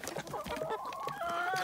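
Chickens clucking nearby, a cluster of short throaty clucks followed by a drawn-out rising cackle, with no talking.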